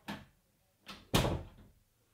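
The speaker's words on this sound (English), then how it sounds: "Close the door, please." A door is closed indoors: a soft knock or bump, then after a pause two heavier thuds in quick succession, the last one loudest and ringing briefly before fading to quiet.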